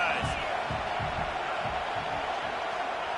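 A steady stadium crowd roar hums beneath an announcer's play-by-play in an EA Sports college football game between Miami and Clemson, with the voice staying in front throughout.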